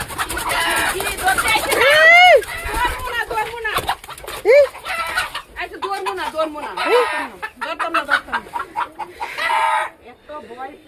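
Chickens and young bird chicks on a rooftop cluck and chirp in repeated calls, some rising and falling. People talk close by throughout.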